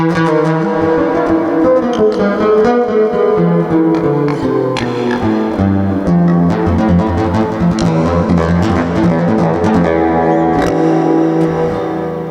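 A Natasha Cosmos NSX-R classical guitar strummed and picked with heavy reverb, notes blurring into a wide, washy sustain, played continuously without voices.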